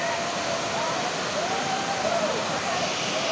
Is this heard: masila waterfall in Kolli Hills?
yes